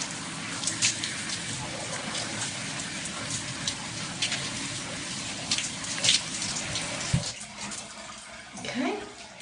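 Shower water runs and splashes steadily while rinsing hair washed with SeneGence hair products, a broad hiss with brief louder gushes and a few handling knocks near the end.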